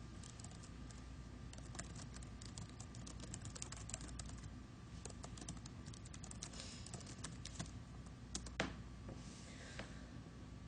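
Fast, irregular keystrokes on a computer keyboard while Java code is typed, a steady patter of quiet clicks at close range over low room hum.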